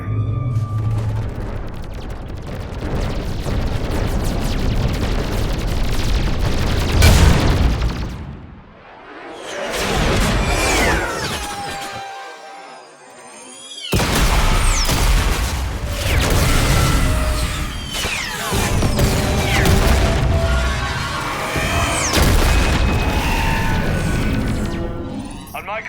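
Weapons fire and explosions in Mass Effect 3, with dense rolling booms, rapid gunfire bursts and whooshing passes, loud and sustained, briefly dropping into a near-silent lull midway, with voices mixed in.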